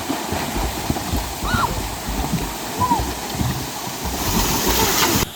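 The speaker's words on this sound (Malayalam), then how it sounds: "കുട്ടികളെല്ലാരും കൂടി നീന്തൽ മത്സരം വെക്കുകയാണ്" Water splashes and churns near a waterfall as children race swimming, a steady wash of rushing water broken by a few sharp splashes and brief, distant voices.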